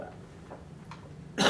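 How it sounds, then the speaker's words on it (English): One sharp, loud cough bursts out near the microphone at the end of a quiet stretch, following a couple of faint throat sounds, with no talking. "Every time I cough, that's going to be super loud on the video."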